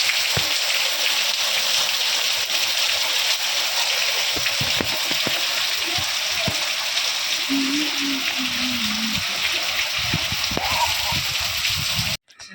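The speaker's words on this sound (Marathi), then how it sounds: "किती जोराचा पाऊस आला बघू शकता व्हिडिओ मध्ये" Heavy rain pours down in a steady, dense hiss, with a few low voices faintly audible under the downpour.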